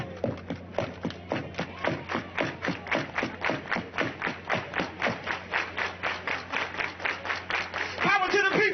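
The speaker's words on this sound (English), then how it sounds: "I need a soul clap." A protest crowd in Minnesota claps a soul clap in unison: evenly spaced, sharp group claps at a brisk steady pace, then a burst of voices at the end.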